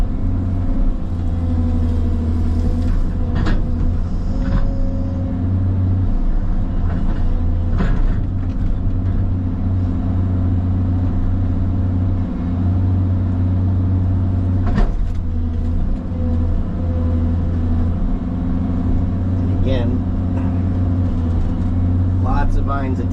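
An excavator's diesel engine running continuously, a steady low rumbling drone close by with occasional knocks and clanks from work on vines, while someone talks over it.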